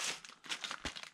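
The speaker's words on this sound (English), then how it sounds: "Your typical Mylar 56 by 84 inch emergency blanket." A Mylar emergency blanket, 56 by 84 inches, being handled, giving a brief burst of bright crinkling and rustling with a soft crunch near the end, close and fairly quiet.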